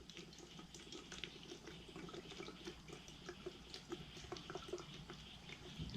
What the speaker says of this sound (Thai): มึงเข้านวยนี่สิได้น้ำไหลสำเร็จพี่น้อง